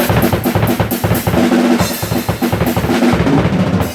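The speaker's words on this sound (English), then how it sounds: "Punk rock beats sound like this." A drum kit drives a fast, loud punk rock beat, with rapid kick and snare hits under a constant crash of cymbals that fills the whole stretch.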